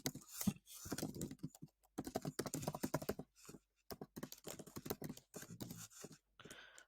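Quiet typing on a computer keyboard, keys tapping in quick irregular runs broken by short pauses, close and alone.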